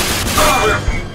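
Gunfire from the video game Rage, a quick burst of shots and a thud mixed under excited talk from players.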